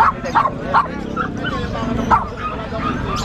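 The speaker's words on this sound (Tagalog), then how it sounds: "Ito tumatahol, parang nanganak na to" A small dog, likely a puppy from a Shih Tzu seller, gives a series of sharp, close yips and barks with a few whimpers, while people talk nearby.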